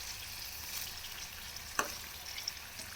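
Lemon juice poured into a hot pickle mixture in a pan gives a close, steady hiss and sizzle with a brief splash-like burst midway, continuing softly to the end.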